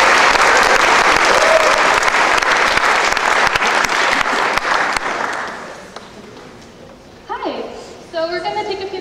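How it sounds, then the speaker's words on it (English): An audience at a Georgia Tech orientation event bursts into loud, dense clapping that fades after about six seconds, then a voice speaks over the dying applause. "give a big round of applause for Schmidt and Taylor Rose"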